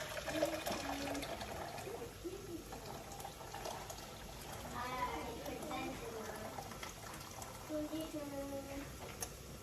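Warm, freshly boiled water pours into a pot while French onion soup is being made. The pour is a faint, steady splashing trickle, and a voice talks over it.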